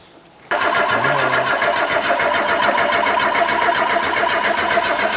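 A Renault 9 engine cranks briefly, then catches and settles into a loud, steady, close idle that runs without a break to the end.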